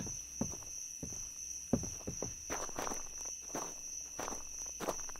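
Footsteps in a survival shooter video game crunch at an uneven walking pace, close and fairly loud over a constant high insect-like hiss of background ambience.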